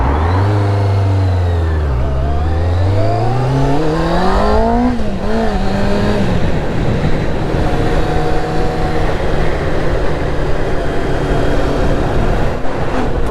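Traffic on a main road at 7 AM, heard from a Kawasaki ZX6R Ninja motorcycle in Cornwall, with loud engine whine rising and falling as vehicles pass close by and a steady road roar underneath.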